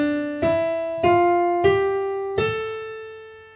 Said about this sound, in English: Next, we have the Aeolian mode, which is also commonly known as the natural minor scale,